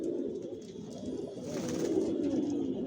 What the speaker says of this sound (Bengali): আর এগুলো সব বিদেশি কবুতর, বিদেশি কবুতরের রেজাল্ট করা কবুতরের বেবিগুলো আমার লফট থেকে আমি সেল করি